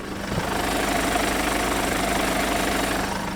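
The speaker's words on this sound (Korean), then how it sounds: "엔진 소리 한번 들려드릴게요." A Mercedes-Benz SUV engine idles steadily up close, a continuous low rumble with a faint ticking rhythm and no talking.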